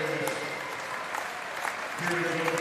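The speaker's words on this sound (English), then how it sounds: "everybody gets a nice round of applause" Applause in a high school gym for senior basketball players at a home game, a steady crowd clapping running under an announcer's voice.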